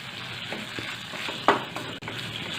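Spices, salt, sugar and roasted cumin powder being stirred into suran khichdi in a pan, giving a soft low sizzle with light scraping and one sharp clack in the middle.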